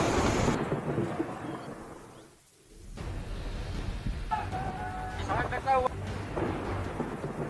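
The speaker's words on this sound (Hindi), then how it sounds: "बिजली की गड़गड़ाहट के साथ हुई तेज बारिश से पेड़ और खंभे धराशायी हो गए।" Thunderstorm with heavy rain in Rajasthan: a steady roar of downpour and rumbling thunder fills the scene, briefly dipping before the storm noise returns, with faint bird calls and livestock sounds mixed in.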